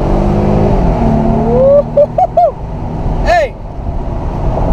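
A Mercedes CLK convertible pulls away hard, its engine rising in pitch over several quick gear steps against steady road and wind rumble, with someone shouting and talking over it.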